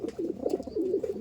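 A bird gives soft, rolling pigeon-like coos in a continuous low murmur, close and clear with no talk over it.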